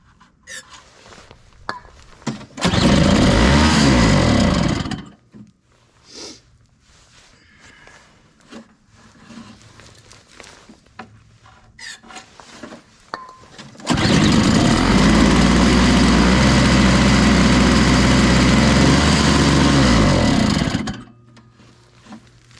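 A Toro Powerlite single-stage snow blower engine fires up twice: a short loud burst of running, a quiet stretch with faint handling clunks, then a longer steady roar of warming up before it cuts off.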